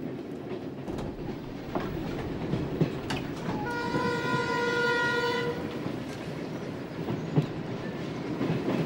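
A train runs along the rails with a continuous rumble and faint clicking, and a long steady horn blast sounds near the middle, fairly close and loud.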